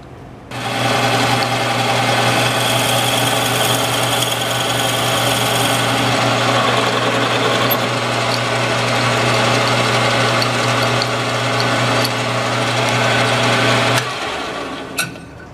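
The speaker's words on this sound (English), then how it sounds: "this is my metal lathe" A metal lathe spinning a 9/16 spade bit runs loud and close with a steady whining motor hum and a faint buzzing rattle, starting abruptly and cutting off near the end with nobody talking.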